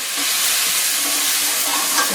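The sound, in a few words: Bombay potatoes sizzling and steaming in pan with water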